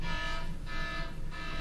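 An alarm sounds steadily for under two seconds during a city commission work session, a continuous, fairly loud electronic tone with slight pulsing that fills the room and carries no talk.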